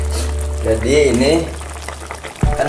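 Steady sizzling and bubbling of an egg simmering in boiling sauce in a hot pan, continuous and close, with a brief clatter near the end.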